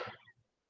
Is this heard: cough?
yes